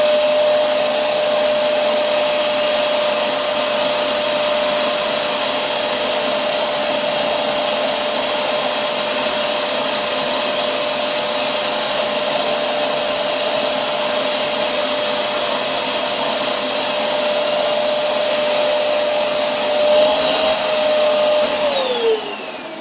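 An Erbauer electric paint sprayer runs continuously at close range for over twenty seconds, a steady loud whine with a high pitched tone, which drops in pitch and cuts off near the end.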